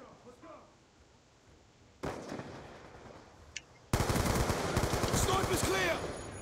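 Gunfire from snipers and other weapons in a multiplayer Call of Duty Black Ops 2 match, starting quiet and then breaking into loud, dense bursts of shots over the last half.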